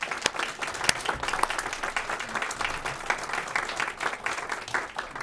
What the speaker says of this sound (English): we'll have a round of applause for our panelists